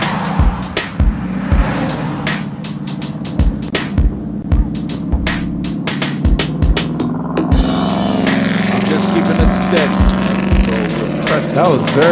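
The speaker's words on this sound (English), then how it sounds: "That vehicle's exhaust was very loud and annoying." A passing vehicle with a loud exhaust drones and throbs steadily in the background, swelling slightly as it goes by, beneath repeated sharp clicks and ticks from a cycling setup, fairly loud throughout.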